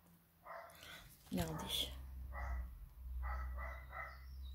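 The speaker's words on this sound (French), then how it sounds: "Je suis désolée, vous entendez ma chienne" A female dog barks outdoors, faint and distant, in a few short bursts beneath someone talking indoors over a steady low hum.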